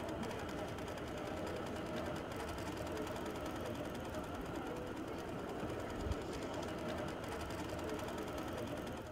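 An Innova longarm quilting machine stitches a patriotic quilt automatically under Mach 3 autopilot, giving a quiet, steady, fast mechanical whir and rapid needle chatter that continues unbroken.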